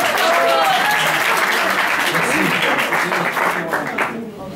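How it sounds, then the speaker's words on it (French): Applause from a comedy show audience in Brussels welcoming a stand-up act, a dense wash of clapping with some cheering voices that stays full for about four seconds before thinning out at the end. "vos applaudissements pour Cracotte Boy!"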